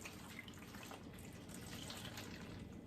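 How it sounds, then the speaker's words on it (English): Warm water is poured steadily onto the bottom of a seed tray for tomato seedlings, making a continuous close gushing flow with an even level throughout and no one talking. "Got some water here. We'll pour it all down here at the bottom."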